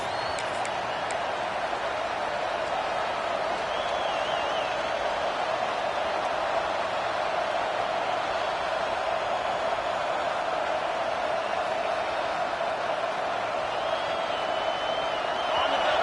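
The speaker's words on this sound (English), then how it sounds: "this crowd is fired up. Listen to this noise here." A steady, continuous roar of a large college football stadium crowd at a Texas A&M vs LSU game, distant and unbroken, with faint whistle-like tones drifting in and out.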